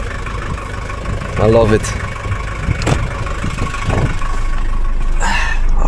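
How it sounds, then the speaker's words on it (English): A 1979 Mercedes-Benz W123 engine idles steadily in the background, a low continuous rumble beneath a voice speaking briefly. "I like the engine sound"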